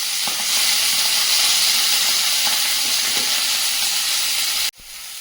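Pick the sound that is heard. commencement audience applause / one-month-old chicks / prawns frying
prawns frying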